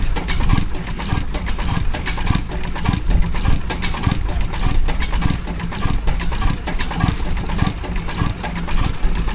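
A 1914 Allen Brothers 5.5-horsepower hot bulb oil engine runs continuously at an outdoor steam fair with a regular low thumping rhythm, loud and close, with a dense mechanical clatter and no voices.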